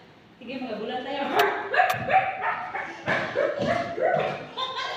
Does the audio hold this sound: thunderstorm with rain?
no